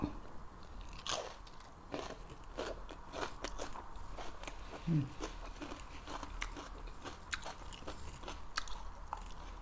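Close crunchy biting and chewing while eating fresh raw koi with herbs and fried chillies, a steady run of crisp crunches and mouth sounds at mealtime, mostly without talk.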